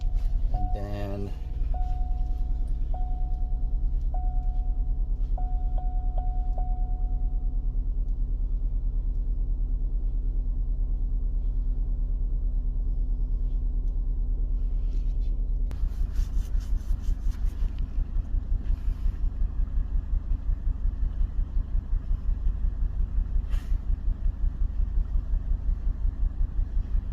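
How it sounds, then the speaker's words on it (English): A Chevy Cobalt SS engine idles steadily after an engine install, with a slight misfire. A low, continuous rumble runs throughout and grows rougher and louder partway through. Brief tones sound early on, with no talking. "So first thing I'm going to do is turn the engine on."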